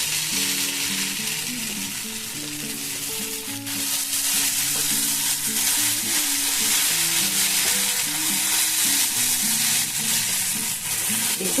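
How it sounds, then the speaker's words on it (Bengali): Chowmein noodles stir-fried with black pepper in a pan give a steady, loud sizzle with continuous scraping and stirring throughout, close up and without talk. "তো এইভাবে আমি গোলমরিচটা দিয়ে তারপরে একবার নাড়াচাড়া করে নেবো"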